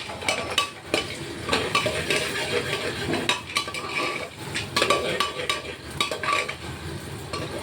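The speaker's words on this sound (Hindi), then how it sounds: "अब इसमें कर लेंगे हम आलू और न्यूट्री फ्राई" Potatoes and nutri soya chunks frying in a pan, stirred briskly with a metal spoon that clatters and scrapes repeatedly over a loud, steady sizzle, close up.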